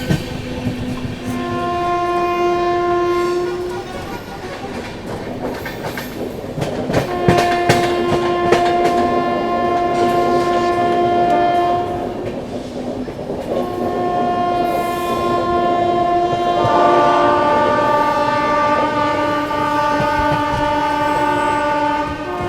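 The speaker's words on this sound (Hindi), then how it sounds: "ट्रेन जो है अपनी गया जी पहुंच रही है" Purushottam Express, Anand Vihar Terminal to Puri, running as heard from a first AC coach: a steady rumble and rhythmic clatter of wheels, with long sustained horn tones sounding repeatedly across the stretch and no talk.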